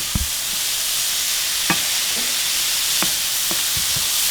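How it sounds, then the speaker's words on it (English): Vegetables cooking down in a hot pan for Hawaiian fried rice give a steady, close sizzle, broken by a few sharp clicks and scrapes of stirring. "So see how this is just cooking down?"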